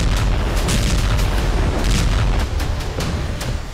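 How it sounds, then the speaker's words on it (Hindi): A loud, sustained rumble of explosions after a missile attack on the Kerch bridge in Crimea, with dense low booms and repeated sharp bursts through the whole stretch and no voices. "हमले के बाद कर्च ब्रिज पर जोरदार धमाके के साथ बारूदी गुबार उठा।"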